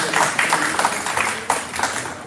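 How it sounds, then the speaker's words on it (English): A crowd applauds for a city code enforcement team at a City of South Fulton public meeting, a steady wash of many hands clapping at moderate loudness for a couple of seconds. "Let's start a round of applause."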